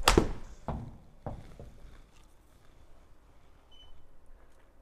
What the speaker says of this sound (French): si je tape une balle, c'est instantané